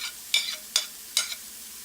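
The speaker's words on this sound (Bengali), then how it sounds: "এবার প্রতিটা জিনিস আমি অল্প করে একটু ভেজে নেব" Vegetables such as bell pepper being stirred and fried in a pan for veg Mughlai paratha: three short, bright scraping strokes spaced about every half second, close and fairly soft with quiet gaps between.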